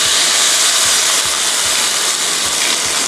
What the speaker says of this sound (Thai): จากนั้นนะคะเราจะใส่น้ำเปล่านะคะ